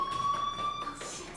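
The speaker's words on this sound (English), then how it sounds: "do you hear that fire alarm? That means you should be outside." A fire alarm in the Life Is Strange video game sounds as a steady, high electronic tone for most of a second over a faint background, then cuts off.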